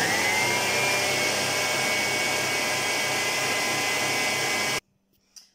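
An electric whisk whips marshmallow mixture at high speed, giving a loud, steady, continuous motor whine that cuts off abruptly near the end, followed by near silence and a small clink.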